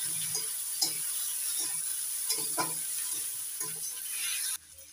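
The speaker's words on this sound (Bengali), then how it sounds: "আদা রসুনটা একটু ভেজে নিয়ে এবার দিয়ে দিচ্ছি টমেটো কুচি।" Chopped tomato frying with ginger-garlic paste in a pan, a steady close sizzle with repeated scraping and stirring knocks from a spatula, ending abruptly near the close.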